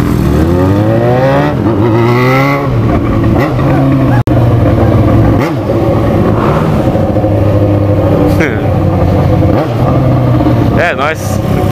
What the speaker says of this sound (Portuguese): Só acelerando, fazendo barulho